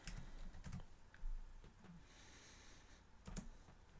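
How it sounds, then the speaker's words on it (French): Keystrokes on a computer keyboard entering a fastboot flash recovery command for a Redmi Note 2, quiet close-up clicks in small irregular bursts with pauses between. "Il va falloir taper la commande suivante, Fastboot, Flash,"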